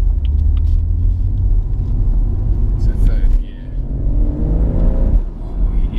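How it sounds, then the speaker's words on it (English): BMW M140i exhaust booming as the car accelerates, a loud steady low rumble with rising revs, heard from inside the cabin while people talk over it. "I can hear the exhaust getting loud already."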